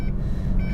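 A warning chime beeps inside an old, rough-running vehicle, with soft-feeling brakes, as it drives, a faint tone over the steady low drone of the engine and road.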